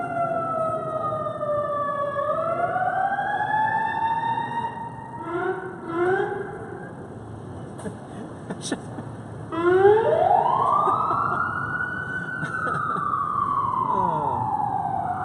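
A wailing emergency siren rises and falls repeatedly, fairly close and loud, sweeping up and down in long glides over a steady background hum.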